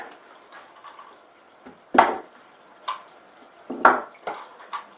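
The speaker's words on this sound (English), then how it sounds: "we're going to strain it in a colander in the sink" Boiled pasta is tipped into a colander in a kitchen sink, giving a few sharp metallic clanks and knocks spaced a second or two apart over a faint background, close and without talk.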